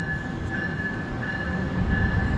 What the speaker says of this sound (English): This is an Amtrak train, not a Metro North.